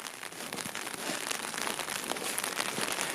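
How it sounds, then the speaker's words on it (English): Rain pours down in the Grand Canyon backcountry, a dense, steady hiss of drops pattering on surfaces, close and continuous with no voices. "And it's pouring rain"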